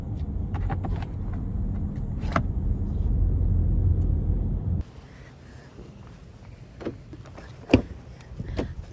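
A car rolls along on a long drive, its cabin filled with a steady low road rumble that drops to a quieter hum halfway through, with a few light clicks and knocks near the end.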